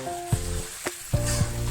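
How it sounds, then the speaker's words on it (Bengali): Marinated chicken stirred with spices in a frying pan for a spicy Bengali chicken curry with potatoes: a steady close sizzle broken by several scraping stir strokes, with no talking. "এবার আমরা চিকেনটা মশলার সাথে ভালো করে মিশিয়ে নেব"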